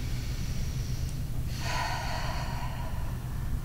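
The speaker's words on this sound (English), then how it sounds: "Breathe." A person takes one deep, audible breath, a close, breathy inhale and exhale in the middle of a quiet moment.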